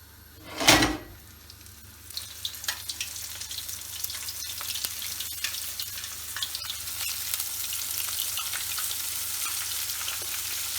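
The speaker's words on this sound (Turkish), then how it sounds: "Artık ilk olarak hazırladığım ciğerleri yağ atabilirim." Edirne-style pan liver hits hot oil in a pan with a sharp thump. An even, close sizzle follows and continues throughout, with light clinks of stirring.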